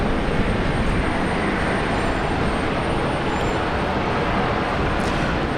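An airliner taking off from runway 01 right at Brisbane Airport gives a loud, steady, broadband jet roar that holds unbroken for the whole stretch, with no voices over it.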